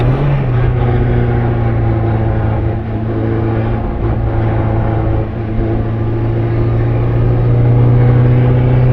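A 1959 MGA Twin Cam engine drones loudly and steadily nearby as the car accelerates, its low rumble holding through the whole stretch with slight shifts in pitch as it pulls.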